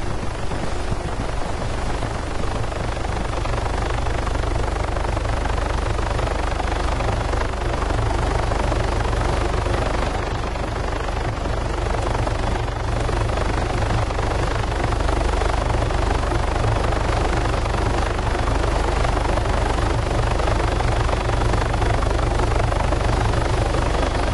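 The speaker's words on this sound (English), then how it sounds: "go ahead and call our chopper in" Helicopter in the video game Arma 3 flying in: a loud, steady rotor and engine roar with a dense broadband wash that holds constant throughout, no voices.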